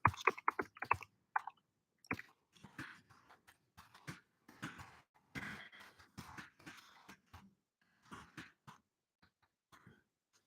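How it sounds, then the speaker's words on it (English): Computer keyboard typing in short irregular bursts of clicks with pauses between, fairly close and quiet, entering text into a chat. "I'll put this all in our little chat here below in the typed out chat"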